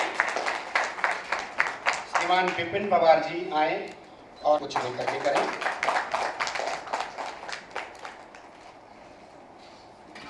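Clapping rings out at an award ceremony as guests are welcomed, with steady rhythmic claps throughout and an announcer talking over them; the claps fade toward the end.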